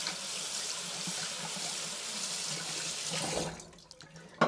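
Hot tap water running into a sink while Black & Decker 10-speed blender parts are washed, a steady hiss of flowing water that stops near the end, followed by a brief clatter.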